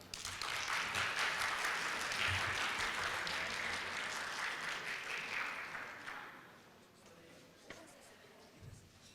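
An audience at a Korean college performance-sharing event applauds a presenter coming to the stage, a dense, even round of clapping that fades out after about six seconds, leaving near silence.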